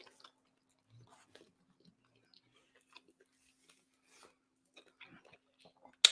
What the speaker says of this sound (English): So please excuse me for chewing in you guys' ear.